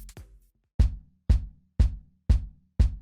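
Five punchy kick drum sample hits with EQ applied, at an even pace, each with a deep low thump and a short bright click, separated by silence.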